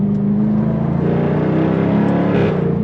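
A loud, deep V8 exhaust from a 2024 Jaguar F-Type R75 with exhaust valves open rumbles steadily up close, idling with a throaty burble and slight revving, no voices.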